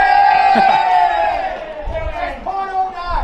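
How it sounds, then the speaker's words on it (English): Home crowd at an Adelaide Footy League Australian rules football match letting out a loud, sustained collective jeer of mixed voices, rising and falling over a few seconds. "And the crowd gives some ironic jeers"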